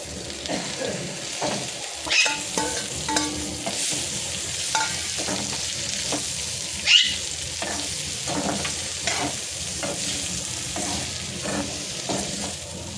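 Cluster beans tossed into a hot pan sizzle and fry steadily while being stirred, with scraping spoon strokes recurring throughout, no talking.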